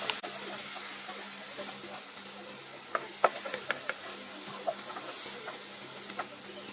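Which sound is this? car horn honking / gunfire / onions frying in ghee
onions frying in ghee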